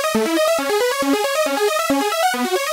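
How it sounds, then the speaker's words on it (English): Bright synthesizer lead built from saw and quad saw oscillators, playing a fast run of stepped staccato notes up and down in a tight, even rhythm, loud and upfront with no voices. "So now it sounds like this with the quad saws in oscillator 4."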